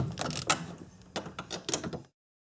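A hand ratchet works on a 12 mm strut top-mount bolt with quick clicking bursts and short pauses, close and faint, then stops abruptly.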